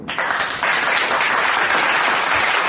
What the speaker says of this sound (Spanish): le damos un fuerte aplauso a nuestro invitado